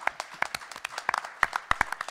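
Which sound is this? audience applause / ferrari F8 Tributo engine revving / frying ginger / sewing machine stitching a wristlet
audience applause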